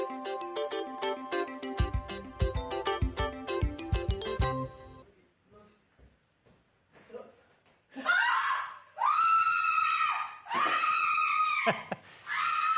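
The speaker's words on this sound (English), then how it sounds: "these are happy screams." Happy screams in a viral video from Israel: after a stretch of music, several long, loud, high-pitched screams burst out with brief pauses between them.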